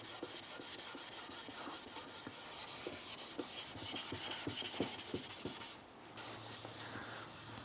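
Rubbing tung oil onto timber by hand, a soft continuous scuffing and wiping with frequent light taps and clicks, close and quiet with no voices.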